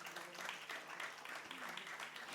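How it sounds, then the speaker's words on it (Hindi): A roomful of people applauding at a women's business event as guests are called up to be felicitated, a faint, dense patter of clapping that holds steady for a couple of seconds. "जोरदार तालियां हो जाएं"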